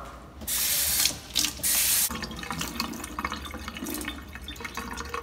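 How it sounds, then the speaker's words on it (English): Tap water runs from a faucet into a silicone ice cube tray, a steady hissing gush broken by a couple of brief stops, then softer trickling and splashing as the compartments fill, with no talking. "All we have to do is fill it with water."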